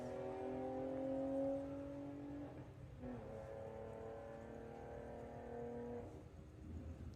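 Drag race cars at the Volkswagen drag racing Summer Nationals at Santa Pod, eliminations day, roar down the strip in a steady, sustained engine drone with rising harmonic tones, heard at moderate distance without talk.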